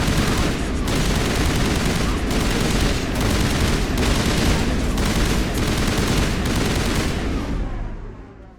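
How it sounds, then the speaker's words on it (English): Dense, loud gunfire from the video game Mass Effect rattles continuously in rapid bursts, a heavy barrage that fades out at the end. "The sound of gunfire."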